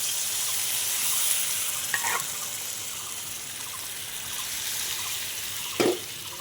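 Hot water is poured into a pan of sizzling fried curry masala, giving a steady frying hiss with a couple of brief splashy bursts, close and alone without talk.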